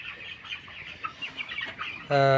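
A crowd of 22-day-old broiler chickens clucks and murmurs steadily nearby in a poultry shed at night, ending with a sudden loud, droning hum.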